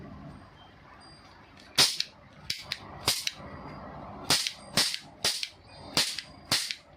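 Toy cap gun test-fired during Diwali shopping, giving about nine sharp, loud snapping cracks at irregular intervals, some paired close together, over a quiet background.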